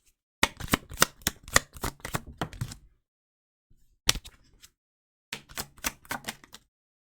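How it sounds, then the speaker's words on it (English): Tarot cards are shuffled and drawn during a card reading, producing rapid crisp riffling clicks in two bursts separated by a brief snap and a short pause, close and clear with no talking. "So let's get another card here."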